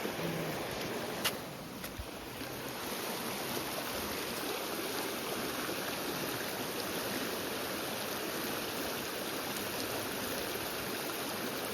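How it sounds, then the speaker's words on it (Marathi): Water rushing through a partly burst village dam, a continuous broadband roar of flowing water that holds steady for nearly twelve seconds, close and fairly loud, with a faint knock early on and no talking. "मस्त पाणी पण मस्त वाहत आहे. बंधारा फुटला आहे आमच्या इथला."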